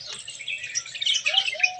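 Small birds being fed bread chirp and tweet in quick, overlapping high calls, fairly close and clear with no talking.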